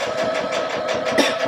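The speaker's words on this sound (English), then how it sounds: "I'm just going to stitch across the bottom until I get over to the other side." A Baby Lock Allegro sewing machine stitches across fabric with a fast, steady mechanical hum and regular rapid ticking, loud and close, with no talking.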